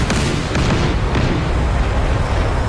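Loud anti-aircraft fire in DCS World during a bombing strike on Okha Harbour, several heavy booming bursts in quick succession over a continuous roar.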